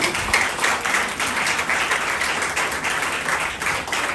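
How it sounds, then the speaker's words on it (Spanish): A church congregation claps together, a loud sustained wash of applause with a faint rhythmic pulse running through the whole stretch. "Denle un aplauso al Señor."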